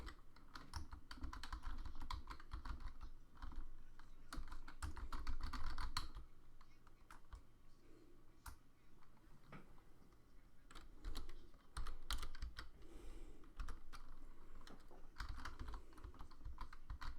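Fast clicking and clattering on a computer keyboard at a desk during a live fight-talk show, with bursts of keystrokes over about seventeen seconds. The typing is close, with brief pauses and no talking.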